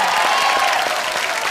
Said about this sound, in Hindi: धर्म जी के लिए जोरदार तालियां हो जाए